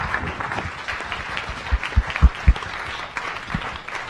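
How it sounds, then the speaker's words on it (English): Audience applause at a science cafe talk, a steady mid-sized crowd clapping for about four seconds with a few louder individual claps standing out in the middle. "Let's give Dr. Smith one more round of applause."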